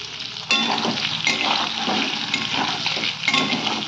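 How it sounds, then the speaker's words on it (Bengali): Paneer frying in a pan with salt, for vegetable biryani: a loud, steady sizzle of hot oil, close up, with occasional louder bursts and stirring scrapes, no talking. "এই দেখো পনিরটাকে ভেজে নিচ্ছি, লবণ দিয়ে দিই।"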